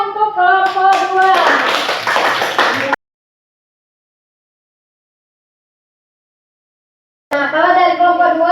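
A class of children claps together for a group in a school lesson, a brief burst of hand claps mixed with voices that stops abruptly, followed by silence and then voices again.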